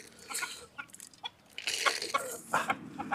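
Several farm chickens cluck and squawk as they gather after being called, with busy overlapping calls rising and falling over a few seconds, close to the listener.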